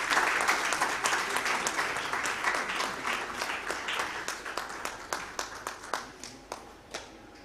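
An employers' conference audience applauds its guest of honor, with dense clapping at first that thins into a few distinct, sparser claps as it dies away.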